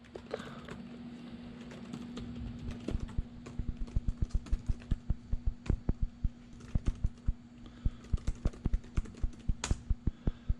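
Hand typing on a computer keyboard, close and clear, with rapid uneven keystrokes that grow sharper and more regular partway through, over a low steady hum and no talking.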